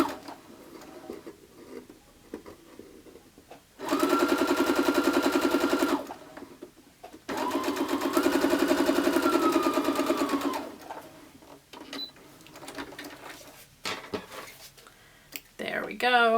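A sewing machine chain piecing quilt pieces runs in two steady whirring bursts of a few seconds each, close and loud, with quieter handling noises and ticks between the runs and a short restart at the end.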